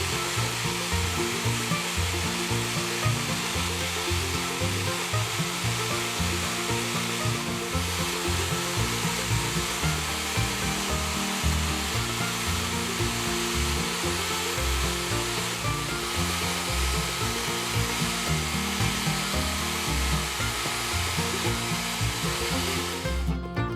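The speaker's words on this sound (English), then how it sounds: "gave it a polish with his favorite stuff." Continuous steady whirring of a power polishing tool buffing an International Harvester adjustable monkey wrench during restoration, loud and unbroken throughout with no talk.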